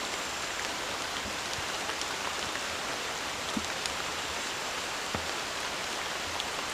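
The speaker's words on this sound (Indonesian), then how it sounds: "Wow, hujannya lebat." Heavy rain pours steadily on a forest campsite at night, a dense, even hiss of drops with a few sharper individual taps standing out now and then, and no voices.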